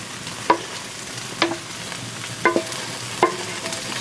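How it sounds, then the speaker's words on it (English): Mushroom sauce sizzles in a pan beside charring steaks, a low, soft frying hiss broken by several sharp scrapes and clinks of stirring at irregular intervals. "our steaks are charring up, so while they're going, let's just get our nice mushroom sauce"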